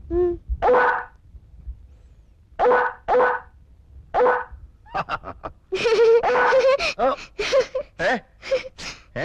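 A person imitates a dog with a series of short, barking yelps, first spaced apart, then quicker and louder barks in a rapid burst.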